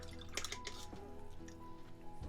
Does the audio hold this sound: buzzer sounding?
no